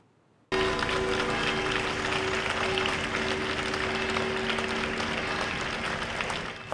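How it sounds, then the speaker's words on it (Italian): A mourning crowd in Piazza Sant'Alfio in Trecastagni applauds as a hearse arrives. Sustained, dense clapping breaks out suddenly and stays steady and loud, with a faint steady tone underneath. "Gli applausi di una comunità in lutto hanno accolto il carro funebre in piazza Sant'Alfio a Trecastagni"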